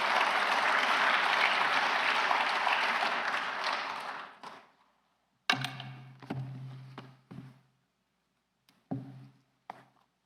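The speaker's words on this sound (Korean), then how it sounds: "우리 박수로 맞이하겠습니다." A congregation at a spring revival service claps steadily for about four seconds to welcome the preacher. The clapping fades out and is followed by a few scattered knocks and thumps.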